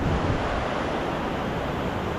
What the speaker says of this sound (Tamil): சின்ன காற்று வருதுங்க.